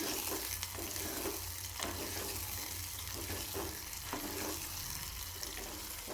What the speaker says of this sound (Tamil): 2 பச்சை மிளகாய், கருவேப்பிலை கொஞ்சம் சேர்த்து இது நல்லா வதக்கி விட்டுடலாம்